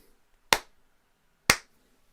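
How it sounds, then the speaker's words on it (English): Two sharp, isolated hand claps about a second apart, close and fairly loud against a quiet room, with no talking. "clap quickly"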